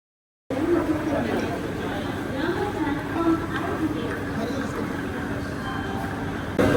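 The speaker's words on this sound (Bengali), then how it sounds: "নির্ধারিত সময় থেকে মিনিট 15 লেট করে আমাদের এই ট্রেনটি এসে পৌঁছলো নিউ জলপাইগুড়িতে" A Vande Bharat sleeper train pulls into New Jalpaiguri station at night, a continuous low rumble of rolling coaches with a faint murmur of voices in the background throughout.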